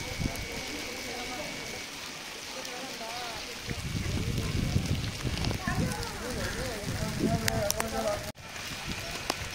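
Steady rain patters and hisses throughout, with a person talking over it and occasional louder splashes nearby.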